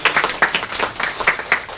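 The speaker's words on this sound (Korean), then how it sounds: "이강훈 권사님과 이명원 집사님, 자, 이 새벽을 우리가 주차해서 잘 봉사해 주신 이 두 분을 우리 박수로 함께 하겠습니다" A congregation at an early-morning church prayer service claps together, a brisk, fairly loud patter of many hands filling the room.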